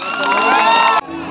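A festival crowd at the Gopalpur beach festival 2022 roars and cheers for a live concert: a loud, dense wall of voices that cuts off abruptly about a second in.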